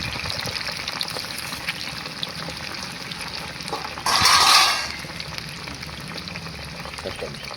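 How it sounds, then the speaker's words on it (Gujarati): Cauliflower and potatoes shallow frying in hot oil make a steady crackling sizzle, with a louder burst of hissing partway through. "તો મિત્રો, આપણા ફ્લાવર અને બટાકા બરાબર સેલો ફ્રાય થઈ ગયા છે."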